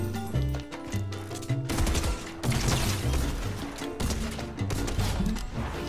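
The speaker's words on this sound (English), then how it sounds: "Why is he shooting at me, not you?" Dense, rapid automatic gunfire bursts in Fortnite Battle Royale, loud and nearly continuous with mechanical clatter, heard alone without speech.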